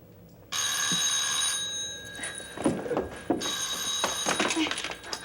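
A telephone rings loudly and continuously with a bright, steady electronic trill from start to finish, while people talk and move nearby underneath it.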